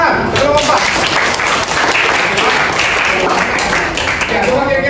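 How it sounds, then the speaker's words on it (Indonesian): Students in a chemistry classroom clap together after a group presentation, a loud, close, crackling burst of applause that continues steadily with a voice speaking over it. "Oke, tepuk tangan."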